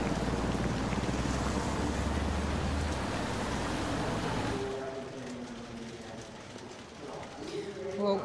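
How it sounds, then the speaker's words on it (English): Steady dense patter of heavy rain outside during a women's cycling race in Vargarda, Sweden, loud and broadband for several seconds, then easing into a softer wash of rainfall with faint background sounds. "Well, you can hear the rain outside. It's very, very heavy at the moment."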